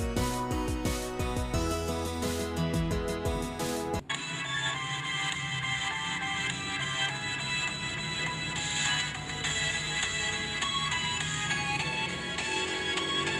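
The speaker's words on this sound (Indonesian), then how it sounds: "Kita cek kualitas suara dari Motorola V3 ini" Music played back through the small built-in speaker of a Motorola V3 flip phone, a plucked melodic intro giving way to a dense, bright full mix that runs steadily and fairly loud without talk.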